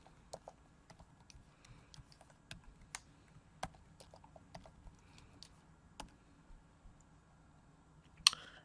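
Quiet typing of a password on a computer keyboard, a soft irregular run of light key clicks ending in one sharper click, no talk.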